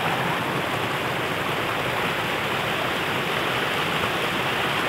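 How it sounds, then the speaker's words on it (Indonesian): Strong floodwater from an overflowing river in South Lampung pours off a road into neighbouring rice fields, making a loud, steady, unbroken rush of water with no pauses and no voices. "Air meluber dari jalan raya ke persawahan sebelah. Sangat deras sekali bosku."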